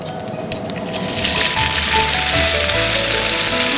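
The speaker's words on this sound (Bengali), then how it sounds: "দিদি, পোলাওটাকে এর মধ্যে ঢেলে দেওয়া আস্তে করে।" Pulao rice is poured slowly into a hot pan of melted ghee, making a steady, close sizzle and crackle that swells a little as the rice lands and then stays even.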